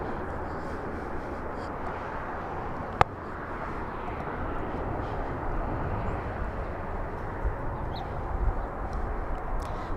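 A jet airliner rumbles steadily at Los Angeles International Airport as it is cleared for takeoff. The broadband engine roar stays constant and moderately distant throughout, with one sharp click early on.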